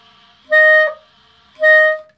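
Two short sustained clarinet notes, each under half a second, played with a leaking, misaligned B/E key. The tone is clear and close with a slight wobble as each note cuts off, and there is no talking.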